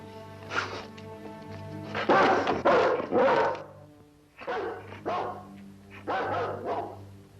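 A dog barks repeatedly in a 1960 western television episode, several clusters of loud close barks with short pauses between them and no talk over them.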